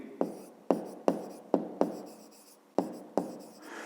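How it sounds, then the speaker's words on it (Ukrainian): A pen writes the conclusion of a fifth-grade math exercise, giving close, crisp taps and short scratching strokes, seven or eight in under four seconds, with no talking. "Пишемо тоді п'яте."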